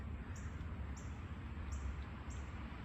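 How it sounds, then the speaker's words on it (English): Faint northern cardinal song from a distance: four short, clear chirps, evenly spaced, rising over a low, steady rumble of background noise. "I hear the red cardinal singing."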